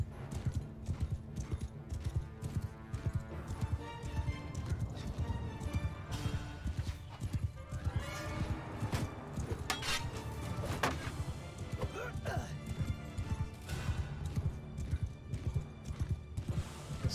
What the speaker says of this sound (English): It's definitely four horse archers.